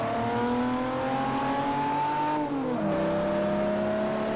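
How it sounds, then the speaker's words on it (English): Car engine in Forza Motorsport 4, a steady loud drone with clear tonal harmonics that climbs slightly, then drops as the revs fall, without speech. "Oh, this is such a good sounding engine."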